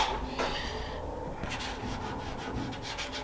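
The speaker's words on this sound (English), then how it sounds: "we'll sand the rest of this down and get this area cleaned up real good" Sander working the body trim area of a classic car, a close rubbing, abrasive hiss with a few quick strokes early on, then a run of rhythmic back-and-forth sanding passes.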